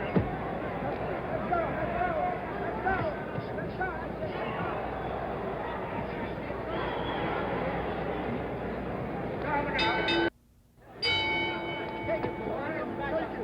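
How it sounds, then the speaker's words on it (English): A boxing ring bell signalling round 9 at a heavyweight fight in the San Diego Sports Arena, a few sharp ringing strikes over constant crowd hubbub and a commentator's voice. "The bell for round 9."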